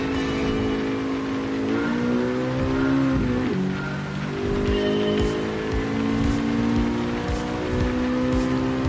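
Gran Turismo 7 racing car on the Tokyo Highway in light rain, its engine droning and shifting pitch as it revs through gears, with a steady patter of rain beneath, loud and continuous throughout.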